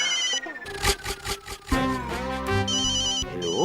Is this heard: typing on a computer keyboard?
no